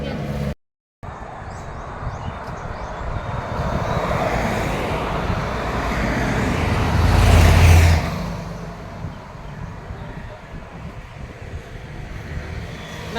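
Cars passing quickly on a road: a continuous roadside rush of traffic noise that swells loudly as one vehicle goes by close, then fades back to a steady hum.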